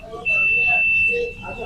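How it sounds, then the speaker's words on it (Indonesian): A multimeter's continuity buzzer gives one steady, fairly loud beep lasting about a second while ECU wiring is checked on a Honda Vario 125 with an ignition fault. Faint background noise surrounds the tone. "menggunakan buzzer, suara buzzer biar jelas"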